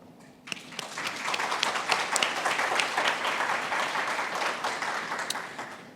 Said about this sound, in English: A round warm of applause for Sergio